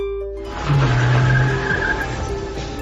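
A car speeds away with tires skidding in a film chase scene, a loud sustained screech over engine noise that fades slightly toward the end.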